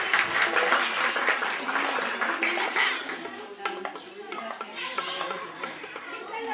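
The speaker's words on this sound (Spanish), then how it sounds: "Un aplauso" Applause from a festival crowd at Fiesta Juntos Podemos in Melo, Cerro Largo, Uruguay, moderate clapping that thins over several seconds, with chatter and a few clinking sounds mixed in.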